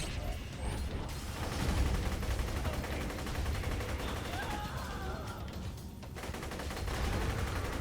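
Dense, continuous gunfire and mechanical clatter from the video game Borderlands 2 fill the mix, with rapid shots and creaking effects layered over a busy game soundscape.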